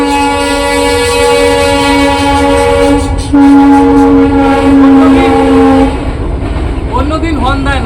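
A passing train's horn blares long and loud near a rural home, a sustained harmonic blast lasting several seconds before breaking off, followed by shorter wavering tones over rumbling rail noise.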